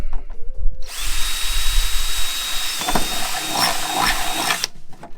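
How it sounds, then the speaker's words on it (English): A power drill bores a hole in a kayak crate, a loud whining spin running steadily for about four seconds, close up, with no talking. "Back to the other side where you drilled the first hole."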